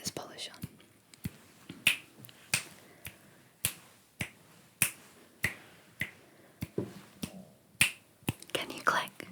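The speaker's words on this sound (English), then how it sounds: "Can you snap your fingers?" Crisp, close finger snaps ring out one after another at a loose, roughly even pace, about a dozen in all. Soft whispering runs underneath.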